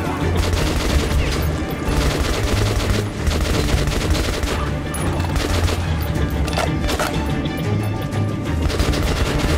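Dense, continuous video game gunfire, with the player shooting their own ammo: rapid, loud, overlapping shots rattle without pause and with no voices.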